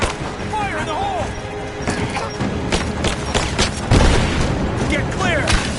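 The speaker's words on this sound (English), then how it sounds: "Grenade out!" A grenade explosion in the Rise of the Tomb Raider video game lands amid dense battle noise with gunfire and booms, a heavier blast rising partway through, under shouted voices.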